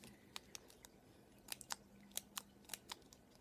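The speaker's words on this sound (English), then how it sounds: "take your piece of orange card, which is about 4 centimetres long, and just cut it into little fringe all the way along" Scissors snip a strip of orange card into fine fringe for a paper freesia flower, a series of crisp, close cuts spaced irregularly and clustering toward the end, quiet and without talking.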